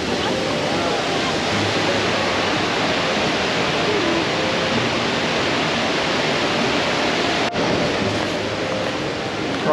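Waterfall at Krka National Park in Croatia, a loud steady broadband roar of falling water filling the whole stretch, with a brief dip near the end and no talk over it.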